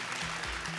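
A game-show studio audience claps in a dense, steady burst of applause, close and continuous through the short moment with no talk over it.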